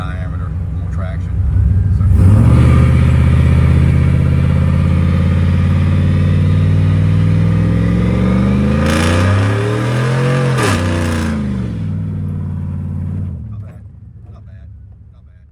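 Chevrolet Silverado pickup fitted with a TBSS intake and a 100-shot nitrous kit, running on giant wheels during a burnout attempt: the engine revs up loudly and holds a high drone, then winds up further before dropping away.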